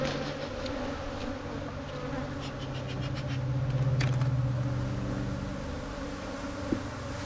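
Honeybees swarming around an open hive during frame work in an apiary, a steady layered buzz close by that swells in the middle, with a few faint clinks and a distant engine hum beneath.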